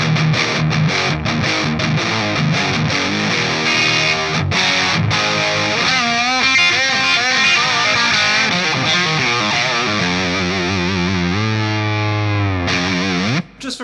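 An electric guitar runs through a SviSound CockedZoid signature overdrive distortion pedal, playing loud, saturated chugging riffs and sustained bending notes that ring on before stopping abruptly.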